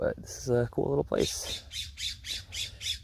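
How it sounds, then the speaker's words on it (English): A California scrub jay gives a run of harsh, rhythmic squawks on a Bay Area hillside, five or six raspy calls evenly spaced and fairly close, following a man's brief spoken remark. "There's a scrub jay calling."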